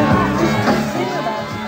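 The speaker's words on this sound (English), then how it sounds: "Enthusiastic crowds at a campaign rally are often an illusion." Enthusiastic crowd cheering and whooping at a 1992 Bill Clinton campaign rally, a loud, close burst of overlapping voices and shouts that stays steady through the short moment.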